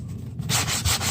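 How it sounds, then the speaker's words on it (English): A sanding block rubs over drywall around a small hole. Close, rough scraping strokes come in quick bursts, loud and alone. "I get the sanding block and I just hit around the hole"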